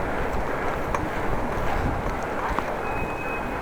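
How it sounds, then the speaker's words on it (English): Strong east wind while cycling on a Dutch bike in Groningen, roaring across the microphone in a dense, continuous rumble that holds steady and loud throughout. "it's blowing like crazy. The wind has picked up from the east."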